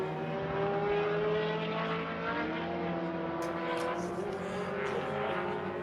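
A Caterham and a Ferrari race past underneath on the circuit at an HSR Classic Daytona race at Daytona International Speedway, a loud, steady blend of engine drones that swells and lingers with no talking.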